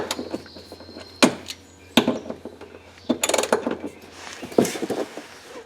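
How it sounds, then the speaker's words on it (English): A ratchet wrench works a bolt loose under a 1999 Chrysler 300M during rear trailing arm replacement. There are sharp metallic clacks and short bursts of ratcheting clicks at close range, with no talk. "let's see what happens when I pull on it with a ratchet wrench"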